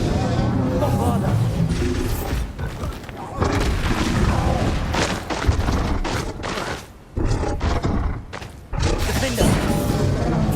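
Explosive Bombarda spell blasts in the Hogwarts Legacy video game, heavy booming crashes and smashing debris repeating loudly through combat, broken by brief lulls.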